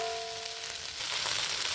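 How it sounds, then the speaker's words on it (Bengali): Banana flower fries in a pan with green chili and cumin seeds, a steady close hissing sizzle that swells louder and brighter partway through, with no voices. "কাঁচা লঙ্কা আর জিরা সম্বারা দিয়ে মোচাটাকে কষিয়ে নিচ্ছি"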